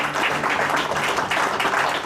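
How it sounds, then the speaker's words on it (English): Loud, sustained applause from an audience at a Rosh Hashanah meditation workshop, dense clapping filling the room steadily from start to finish without any talk. "A round of applause."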